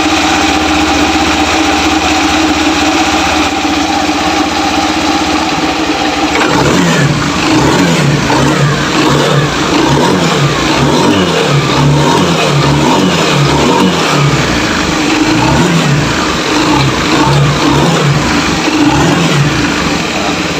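A fuel-injected motorcycle engine starts up, idles briefly, then is revved repeatedly in loud, close, rising-and-falling bursts that last through the rest of the clip.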